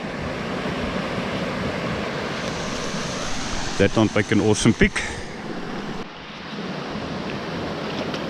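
Rain-swollen stream water rushing steadily at close range, a broad constant wash, while someone briefly speaks over it partway through.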